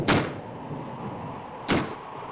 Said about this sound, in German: Irgendwo ist sicher eine Tür aufgesprungen.